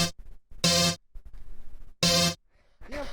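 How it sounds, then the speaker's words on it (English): An isolated rave chord stab sample fires in two loud, bright bursts about a second and a half apart, each roughly a third of a second long, separated by quieter rumbling gaps and a short warbling tail. "I'll play you the original sample so you can hear it."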